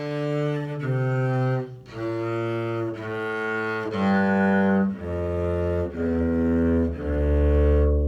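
Bass guitar plucking the notes of a theme one after another in even, sustained tones, close and full, about seven notes with brief gaps between them and no talking.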